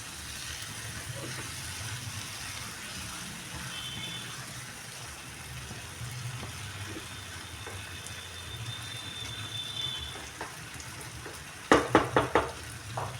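Brinjal and potato curry fries and sizzles softly in a pan as it is stirred. A few sharp scraping clicks from the spoon sound near the end.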